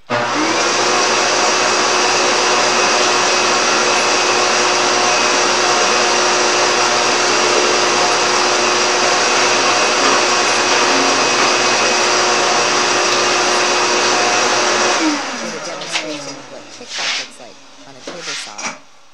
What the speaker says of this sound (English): I need to run the vacuum for a split second